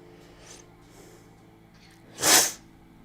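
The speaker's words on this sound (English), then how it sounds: "Sorry about my sniffles." A person recovering from a cold lets out one sharp, loud nasal burst near the end, after a stretch of quiet room tone.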